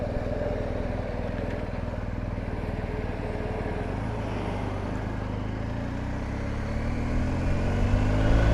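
A BMW GS 1250 motorcycle is ridden on the road in sunshine, its engine droning steadily up close and rising in pitch near the end as it accelerates, with wind rush beneath.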